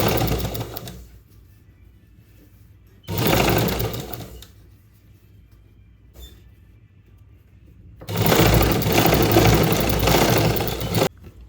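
A close sewing machine stitching a blouse runs in two loud, rapid whirring bursts of stitching, one short and one longer, separated by quiet pauses with faint handling noise.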